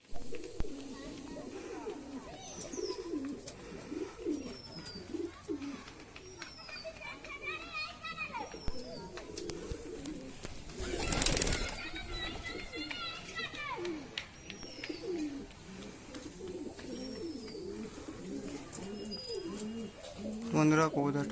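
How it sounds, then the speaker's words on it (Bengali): A black pigeon cooing in a rural Bangladeshi yard in the afternoon, soft repeated low coos near the listener, with children playing and talking in the background and other birds calling. "তো এই হচ্ছে কবুতরটা।"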